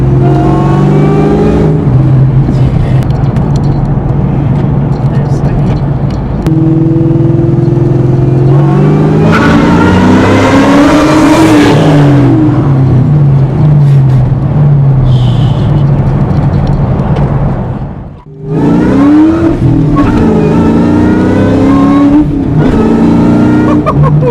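2003 Mustang Cobra accelerating hard in fourth gear, a loud close engine roar climbing in pitch, easing between pulls and dipping briefly before surging again.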